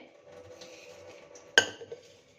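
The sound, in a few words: pressure cooker being handled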